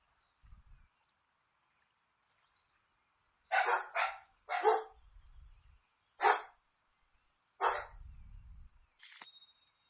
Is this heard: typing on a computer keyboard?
no